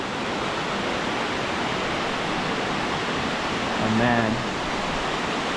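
Broad, steady roar of a large waterfall on an overgrown hiking trail near an 1800s ghost town, constant and loud, with someone briefly speaking over it.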